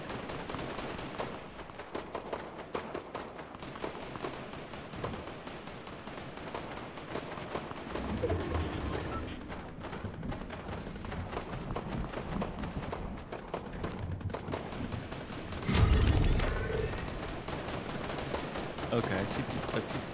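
Fortnite gunfire rattles steadily from a distant hilltop in rapid, continuous bursts, with a louder nearby thump near the end.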